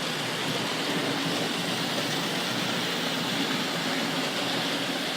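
Steady whirring rumble of a Hornby Dublo model train pulling three coaches around a circular layout, continuous and even in level, with no talking.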